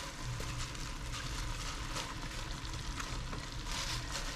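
Kale dropped into a simmering pan of harissa chicken gives a steady, close sizzle and bubbling that holds evenly throughout, with no talking.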